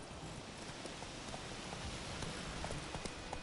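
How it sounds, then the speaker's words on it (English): Horse hooves clip-clop steadily in The Witcher 3: The Wild Hunt video game, a soft, even gait set against a low ambient hiss like light rain, with no voices. "Luckily, Geralt can always count on his horse Roach to help him in his travels. To have Roach come to you, double press L3."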